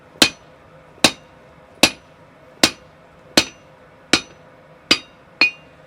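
A hot cut struck with a hammer through hot steel at a forge while making V-bit tongs: eight sharp, ringing metallic blows at an even pace, about one every three-quarters of a second, loud and close with no talk.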